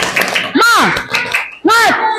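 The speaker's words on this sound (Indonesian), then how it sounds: "Tepuk semangat." A school class does a rhythmic spirit clap: sharp hand claps land between loud, sing-song children's voices chanting in unison, two short bursts close by.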